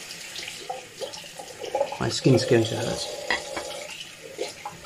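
Cold water running from a tap while shaving, a close, steady gush, with a voice speaking briefly over it and some clattering and splashing in the middle.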